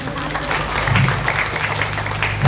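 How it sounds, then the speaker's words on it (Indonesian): Applause from an audience at a creative workshop, a soft, continuous patter of many hands over a low steady hum, without clear individual claps. "kalau mau tepuk tangan boleh"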